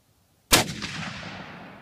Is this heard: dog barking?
no